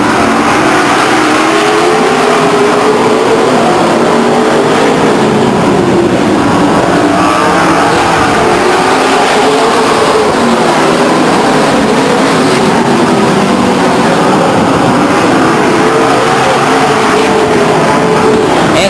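Race cars circle the track at Stockton 99 Speedway in 1999, a continuous loud engine roar with rising and falling revs as the field passes through the turns. The sound stays steady and saturated throughout, with no voices.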